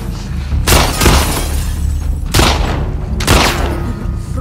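Gunfire crackles in The Last of Us Part II, several sharp bursts of shots landing at irregular intervals over a steady low game rumble, loud and close.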